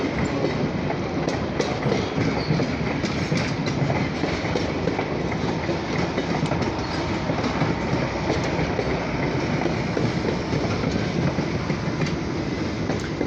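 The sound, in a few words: OC&T Alco 75 passenger train passing on rails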